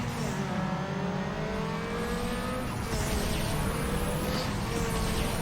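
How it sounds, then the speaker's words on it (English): A race car in the video game Need for Speed Underground 2 revs hard past its limit and spins its wheels: a loud, steady engine roar with rising whine, unbroken for several seconds. "You gotta get the over rev, so we're gonna spin the wheels coming up"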